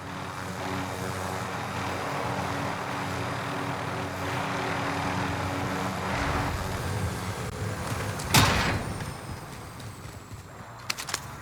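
A helicopter in the Warzone video game drones steadily up close, a continuous rotor and engine roar with a sharp thump partway through and scattered game sounds near the end.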